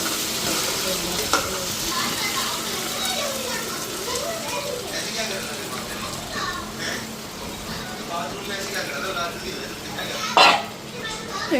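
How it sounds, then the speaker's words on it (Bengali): Spice paste for a soybean curry sizzles and fries steadily in a pan while a spoon stirs it, scraping and clinking now and then, with someone talking throughout and children heard faintly nearby. "মশলাটাতে ভালো করে ভাজা করে পরে এটাতে ঝোল দিব"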